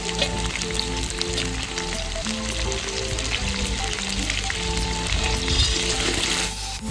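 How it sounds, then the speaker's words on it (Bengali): Potatoes fry in oil with a dense, loud, unbroken sizzle that runs close and steady until it drops off at the very end. "আলুগুলো একদম হালকা করে ভেজে নেব।"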